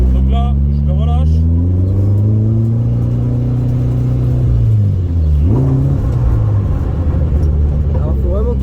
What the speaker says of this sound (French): On tente la troisième, donc le coup d'embrayage, le clutch kick